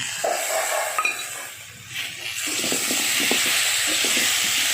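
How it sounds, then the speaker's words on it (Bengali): Half-fried spice paste lands on potatoes and eggplant in a pan for a light fish curry, quiet at first, then swelling into a loud, steady sizzle with small stirring clicks underneath. "এবার অর্ধেক ভেজে রাখা মশলাটা দিয়ে দিচ্ছি"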